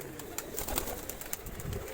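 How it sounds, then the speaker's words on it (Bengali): A Murshidabadi pigeon coos softly at close range, its low burbling notes mixed with light scratchy clicks and rustles of the birds around it. "এটা মুর্শিদাবাদের পায়রা।"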